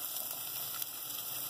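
Garlic and onion frying in a pan for a chicken pie filling, a quiet, steady sizzle with a faint hiss and no talking.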